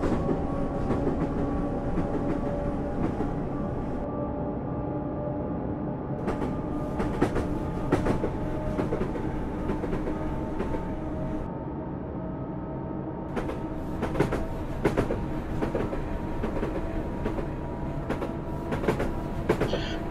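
FCC Class 377 electric multiple unit running in Train Simulator 2015 on the London–Bedford main line: a steady rumbling roll with clicking rail joints and periodic sharp clacks, continuous and close, with no talking.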